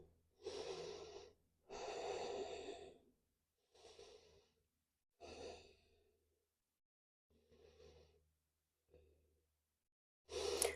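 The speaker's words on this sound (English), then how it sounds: "And breathe here for 3." Slow, deep breaths taken while holding a yoga child's pose: several long inhales and exhales, close and fairly soft, separated by quiet pauses, with no talking.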